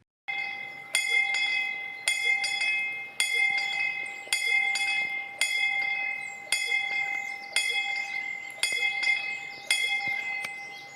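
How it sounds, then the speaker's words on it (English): Bell on the roof of a farm, rung to call people to meditation: a bright, clear metallic strike repeating at a steady pace about once a second, each ring decaying under the next, heard from a moderate distance. "We started using the bell on the roof of the farm to call us to these times."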